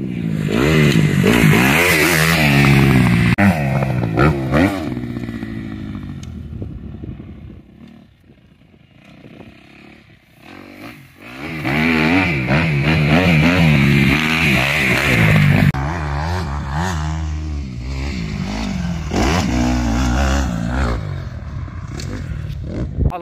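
A used 2018 motorcycle on a track roars loudly up close, revving hard through rising gear sweeps, easing off midway and then accelerating again, with no talk.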